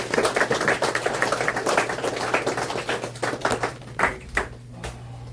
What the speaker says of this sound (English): Let's give Chris another round of applause.